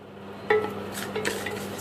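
Gram dal, urad dal, green chilli and curry leaves sauté in a small pan, a metal utensil clinking once and stirring scrapes over a faint steady sizzle.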